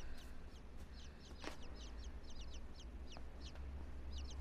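Chicks peeping in a barn scene of the video game Inside, a run of short high chirps repeating steadily over a low background hum, fairly faint and with no talk.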